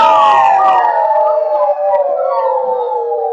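A storyteller's voice imitates a wolf howl, a loud, long wavering howl that slides slowly downward and carries alone for several seconds.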